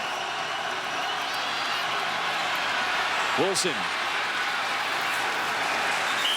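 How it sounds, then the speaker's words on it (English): A stadium crowd at a Miami Hurricanes college football game against Bethune-Cookman roars steadily throughout, a broad continuous wash of cheering with a brief whistle-like rise near the middle, while an announcer speaks over it. "the crowd finally getting loud in Miami"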